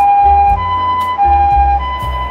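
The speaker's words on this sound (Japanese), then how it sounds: "救急車来るとドキッとするね。" An ambulance siren on a city street, loud and close, its two-tone wail alternating steadily over low engine rumble.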